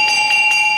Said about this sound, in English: we'll go ahead and ring the bell and wake those that are sleeping